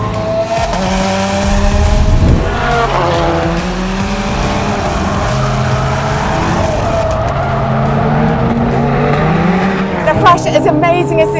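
Prodrive P25 Subaru Impreza driven hard on a race track, its engine revving loud and close through rising and falling gear changes, with tyre squeal and a few sharp pops. A voice talks over it.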